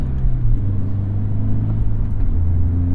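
Car engine running through three heel-toe double-clutch downshifts from fifth down to second gear in a manual-transmission car, a steady close low rumble with brief blips in engine note, no talking.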